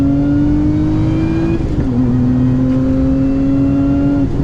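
A Lotus Emira sports car engine held high in the rev range in track mode, a steady sharp droning whine with a slight dip and recovery, loud and close with no talk.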